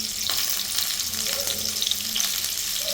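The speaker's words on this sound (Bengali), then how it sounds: "এদিকে আলুগুলো ভাজা হোক," Potatoes seasoned with turmeric and salt fry in a pan, giving a steady close sizzle with a few faint scrapes and no talking.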